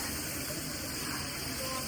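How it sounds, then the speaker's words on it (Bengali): Hilsa fish frying in mustard oil give off a steady, close sizzling hiss with no break, set against a busy outdoor eatery on the Padma river ghat. "সরিষার তেলের উপরে সুন্দর করে তারা হচ্ছে মাছগুলো ভাজি করছে।"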